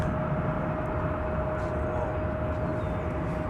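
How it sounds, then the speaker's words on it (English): Delta airliner taking off from DFW Airport, a steady broad jet roar with a thin sustained whine, constant and moderately distant throughout. "Takeoff, Delta 841"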